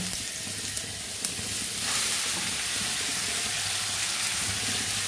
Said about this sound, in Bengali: ডালগুলো একটু লাল লাল করে ভেজে নেব।